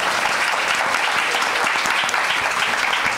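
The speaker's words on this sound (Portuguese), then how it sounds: "Palmas." Applause from a sizeable audience at a talk on women in sports marketing, a dense sustained clatter of many hands clapping at steady loudness throughout.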